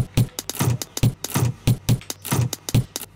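An EDM drum beat with kick and snare built from door sounds, made for a track produced from tractor recordings: a steady, punchy loop of thuds and sharper knocks with light clattery hits between them, heard alone without talk.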